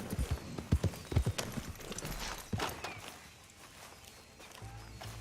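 Horse hooves clip-clop in a quick uneven rhythm at close range in Red Dead Redemption 2, then the steps fade out leaving a low ambient rumble.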